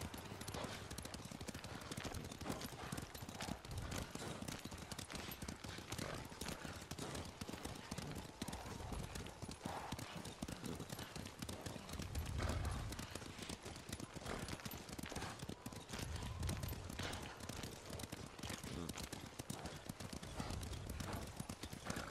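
Horse hooves clip-clop steadily on the ground in the samurai video game Ghost of Tsushima, a continuous rhythmic trot that runs throughout with faint game ambience behind it.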